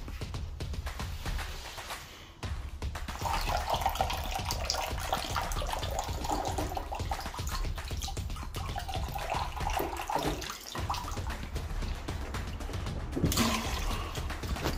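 Water from a couple of jugs pours into the header tank of an Ideal Classic boiler system, a steady close splashing gush with a brief break near two seconds and a slight swell toward the end.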